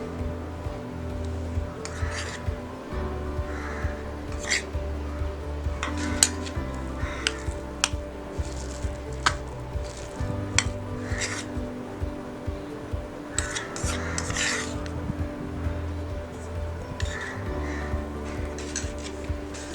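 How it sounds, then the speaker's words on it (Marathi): Bhajiya batter ingredients mixed in a bowl: light, irregular clinks and scrapes of a spoon repeat throughout over a quiet musical background. "सगळं साहित्य आता व्यवस्थित मिक्स करून घेऊया"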